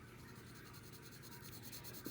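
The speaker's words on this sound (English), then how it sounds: "So I'm just going to shade that in with pencil." Pencil shading on paper, a soft continuous scratchy rasp of graphite strokes at close range, quiet and steady for a couple of seconds with no talk over it.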